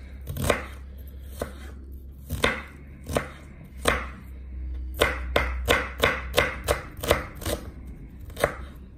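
A knife chops through coloured peppers on a board, giving a string of close, distinct thuds at an uneven pace, sparse at first and then a quicker run of cuts.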